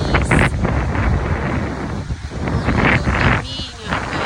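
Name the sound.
strong wind blowing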